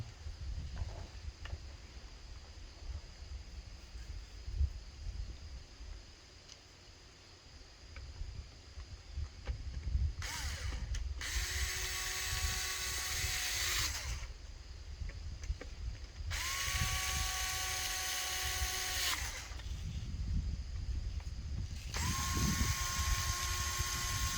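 Cordless power drill driving into an HDX T4E less-lethal home defense shotgun during modification: three sustained whirring runs of several seconds each, separated by pauses, close and steady over a low background hum.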